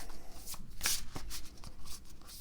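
Oracle cards are shuffled by hand, close and soft, with a series of quick riffling and tapping bursts and one brighter flutter, with no talking.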